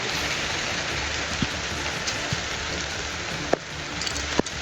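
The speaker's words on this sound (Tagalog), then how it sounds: "Pasang ulan." Steady rain falls as a dense, even hiss of drops on a surface, with a few louder individual drips standing out near the end and no voices.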